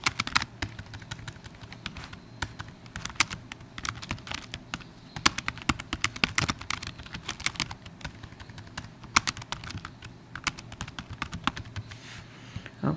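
Steady typing on a computer keyboard, with dense, irregular key clicks and occasional louder taps running close and continuous throughout, with no talk.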